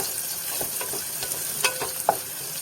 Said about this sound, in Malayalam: ഈ വലിയുള്ളി നന്നായിട്ട് നമുക്കൊന്ന് വഴറ്റിയെടുക്കാം